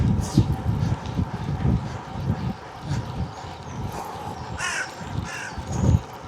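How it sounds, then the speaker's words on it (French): Several crows caw in short harsh bursts at a distance, heard over wind rumble and low road noise during a bike ride, with a voice speaking in between. "il y a les corbeaux là"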